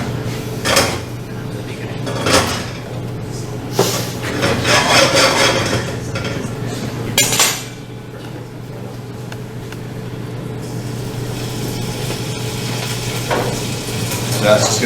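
Foie gras hits a hot pan and fries with a steady sizzle that runs the whole time, broken early on by a few bumps and clatters of handling at the stove.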